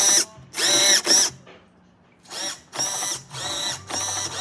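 A rudder servo on a Proboat Miss Geico 36 RC boat sweeps back and forth, giving several loud whirring buzzes of about half a second each, close up, separated by short pauses.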